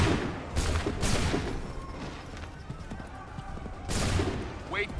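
Musket volleys in Assassin's Creed III burst out as broad, loud rolling crashes near the start and again around four seconds, over a dense battlefield din of hooves, shouting voices and scattered shots.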